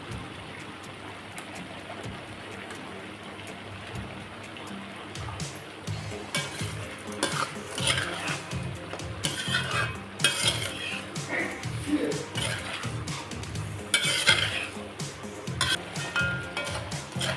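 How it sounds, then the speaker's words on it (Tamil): Country chicken sizzles and stirs in oil in a hot pan, with a steady frying hiss and intermittent scraping of a utensil against the pan. "எல்லாம் எண்ணெயிலேயே நல்லா வதங்கி வரட்டும்."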